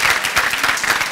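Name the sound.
audience applause for graduates' parents at graduation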